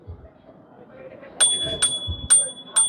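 Bell on a Xiaomi Electric Scooter 5 Max rung up close, three or four bright metallic dings at an uneven rhythm, each ringing briefly over a quiet background.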